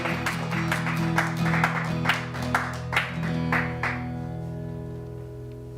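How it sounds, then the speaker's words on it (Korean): Church congregation applauding God during a worship service, a short burst of clapping over a sustained organ or keyboard tone that thins out after a few seconds, leaving the held music alone. "우리 믿음과 결단의 박수를 하나님 앞에 올려드리겠습니다"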